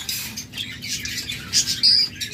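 Lovebirds at a bird farm give quick, bright chirps and tweets in short bursts, close and fairly loud, with a few sharper squeaky calls near the end.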